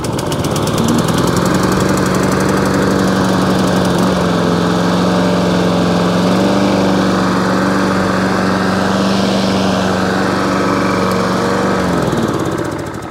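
A Hayter 48 petrol lawn mower engine runs loud and steady at close range, holding a constant throbbing drone for nearly the whole stretch before it drops away at the end.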